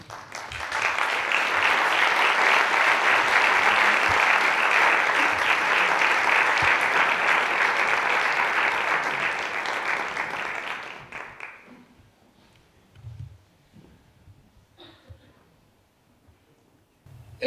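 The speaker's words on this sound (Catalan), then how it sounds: "Un aplaudiment per a ell." Loud sustained audience applause at a live cultural event, dense clapping for about ten seconds before fading away into quiet room noise.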